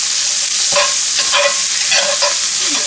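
Tomato paste being stirred into a loud, hot frying pan for Swiss steak, with a dense, steady sizzle and rhythmic scraping strokes of a spoon, close up and without speech.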